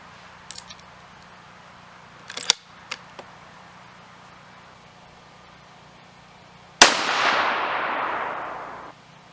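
A Howa rifle fires a single loud shot of 40gn Nosler Varmageddon ammunition, a sharp crack followed by a long fading echo, preceded by a few faint clicks and handling knocks.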